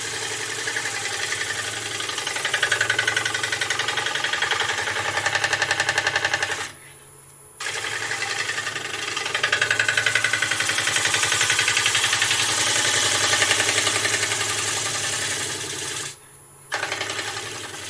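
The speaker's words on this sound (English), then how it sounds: "So I'm just going to float the bowl gouge around." A bowl gouge cuts a wooden bowl spinning on a woodturning lathe, giving a steady, close whirring scrape that stops briefly twice, then resumes.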